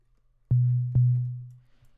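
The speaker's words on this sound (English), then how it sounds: "so let's use a sine wave for this pad" A sine wave pad from a wavetable synthesizer plays a minor chord, entering with two soft plucked onsets and sustaining as a smooth, steady low tone that fades out over about a second.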